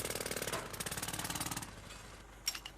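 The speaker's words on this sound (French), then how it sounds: "Le travail au marteau-piqueur génère un niveau de bruit important." A jackhammer pounds in rapid, even bursts for under two seconds, then stops, leaving a couple of faint knocks.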